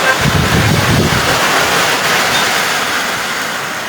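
Heavy rain and strong wind in Muzon, Taytay, during a storm, a dense, steady roar of downpour and gusts that stays loud and continuous throughout with no voices.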